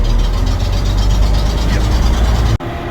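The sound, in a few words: vintage bus engine exhaust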